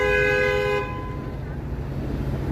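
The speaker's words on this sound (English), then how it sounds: "See, we're getting into the honking again here." Car horns honking in downtown Toronto during late-afternoon rush-hour traffic, a loud sustained toot that cuts off partway through, leaving a steady traffic rumble.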